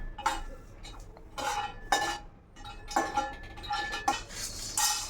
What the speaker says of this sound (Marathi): त्यानंतर दालचिनी आपण परतून घेणार आहोत.